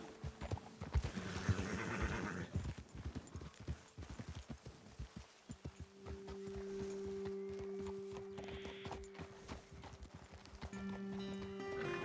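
Horses in the Red Dead Redemption 2 video game, hooves clip-clopping at a walk with a neigh, footfalls loud and close at first, then slowing and settling over a steady hum.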